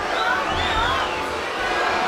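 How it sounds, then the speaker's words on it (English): Boxing arena crowd at a Nonito Donaire fight, a steady dense roar of cheering and shouting voices that fills the whole stretch without breaks. "Crowd really getting on them now"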